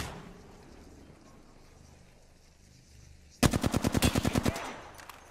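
Rapid automatic gunfire from an enemy team in Apex Legends, a sudden loud burst of about a dozen evenly spaced shots after a quiet stretch of game ambience.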